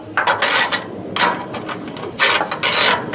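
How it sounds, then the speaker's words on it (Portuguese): Metallic clicks and ratcheting of an open-end wrench tightening a solar panel mounting bolt on a roof tile, in short irregular bursts, close and moderately loud, with no talk. "Você vai usar uma chave de boca normal, vai depender aí do parafuso."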